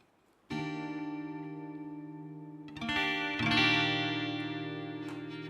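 Sustained electronic tone processed through an effects unit with reverb and chorus, entering abruptly after silence, then thickening into layered, shimmering harmonics that swell and linger.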